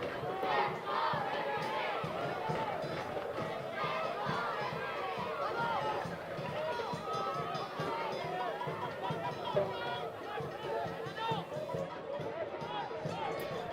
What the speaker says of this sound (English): Fans are cheering for the referee